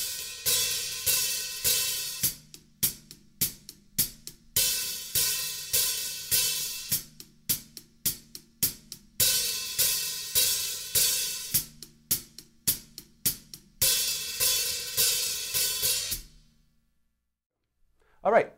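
Drum-kit hi-hat cymbals struck in steady repeated patterns while left-foot pressure changes, alternating between long washy open sizzles and tight clipped chicks, close and solo, then a pause before a final hit.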